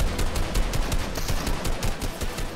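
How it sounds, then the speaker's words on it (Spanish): Rapid automatic gunfire in Fortnite, a loud continuous stream of shots in quick succession that stays close and steady throughout. "Espérate, que me está disparando fuerte."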